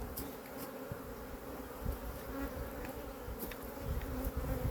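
Honeybees buzz steadily around an open nuc hive while it is inspected, the busy drone continuous and close, with faint higher insect whines passing in and out.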